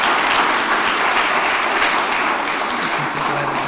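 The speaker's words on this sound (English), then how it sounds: "Shower him with applause, please" Audience applause after a talk at a symposium event, a dense steady wash of many hands clapping at close range, loud and continuous with no voices over it.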